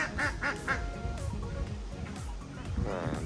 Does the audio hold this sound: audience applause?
no